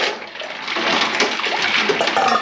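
Ice is swirled around in a large container of water, a continuous bright rushing slosh with faint clinks, close and fairly loud with no talk.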